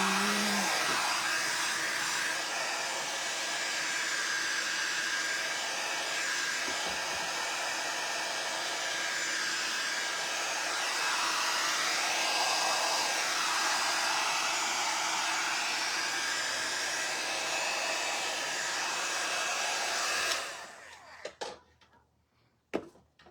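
A hair dryer blows steadily and loudly on tea-stained muslin for about twenty seconds, then cuts off, leaving a few faint handling clicks.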